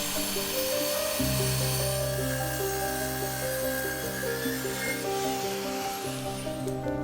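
A power drill whines in steady, high tones with pitch shifts while driving screws into timber garden sleeper beams for a retaining wall, close and continuous, with no talk.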